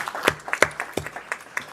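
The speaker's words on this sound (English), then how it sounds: "Let's give a round of applause to the artistic imagination here." A small group claps at a board meeting, a brief ragged round of applause of sharp, close hand claps in an uneven rhythm.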